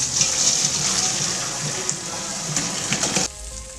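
Water from boiled potatoes pours out in a steady, rushing gush that splashes continuously, then stops abruptly near the end.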